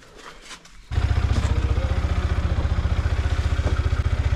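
A motorcycle is pulled out of a cramped parking spot among other vehicles. After a second of quiet shuffling, its engine starts with a loud, rhythmic chugging that runs steadily close by.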